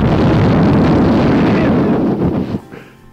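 Breath blown into a microphone to imitate explosions, a loud continuous roaring rumble of close wind-blast noise that holds for over two seconds before cutting off sharply and fading.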